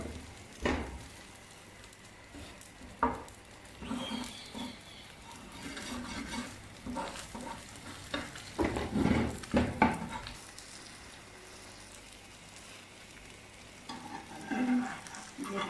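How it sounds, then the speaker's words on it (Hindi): Egg frying on a tawa griddle gives a soft, continuous sizzle, broken by occasional scraping and stirring taps at close range, with no voices. "एक ही दफ़ा मैंने नहीं सारा अंडा तवे पे डाल दिया"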